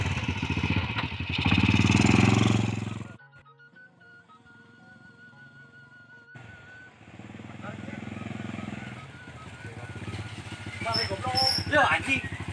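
A motorcycle engine revs loudly and close, cuts out for a few seconds, then idles and revs again while people talk nearby.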